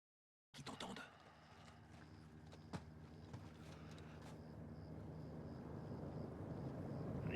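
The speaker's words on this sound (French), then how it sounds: "Un hélicoptère en approche." A helicopter approaches in the video game Modern Warfare II, its low rotor drone rising steadily in loudness from faint to nearer, with no talk over it.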